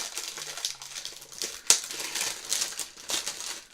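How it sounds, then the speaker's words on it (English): Close, irregular crinkling of plastic wrap being pulled off a chocolate gift box, with crisp bursts of crackle and one sharper snap, no voices. "Sorry for the crinkly noise."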